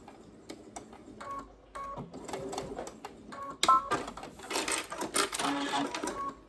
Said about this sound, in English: I am going to back stitch just to keep it from unraveling on me